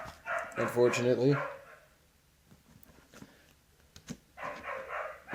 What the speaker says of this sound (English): we got dogs barking and yapping in the background